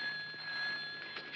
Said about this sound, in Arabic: انا اللي هرد على التليفون يا بابا